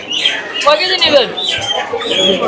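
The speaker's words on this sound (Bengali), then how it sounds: "এইদিকে বিক্রি হচ্ছে ব্রয়লার মুরগি" Broiler chickens clucking at a market stall in a busy rural bazaar, bird calls recurring throughout alongside a crowd's chatter and voices nearby.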